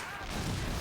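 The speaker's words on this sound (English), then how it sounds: "Nice explosion." A Panzerfaust round bursting in a World War II strategy game, one loud broad blast that swells and rumbles on briefly.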